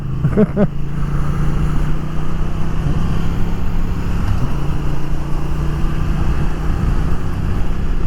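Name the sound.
Triumph Thruxton RS motorcycle engine running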